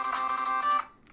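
A phone rings with a loud, bright electronic ringtone lasting under a second before cutting off into near silence.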